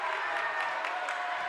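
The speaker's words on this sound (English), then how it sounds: "Lancers fans clapping it up as well" Crowd of fans clapping in a gym during a girls' high school basketball game, Kenosha St. Joseph against Lomira, a steady wash of applause with scattered cheers, moderately distant.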